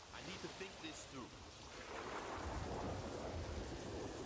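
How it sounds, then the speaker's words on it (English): Heavy video game rain pours steadily with low rumbling thunder building through the clip, a dense, continuous storm wash with no voices. "We're pouring down raining, boy."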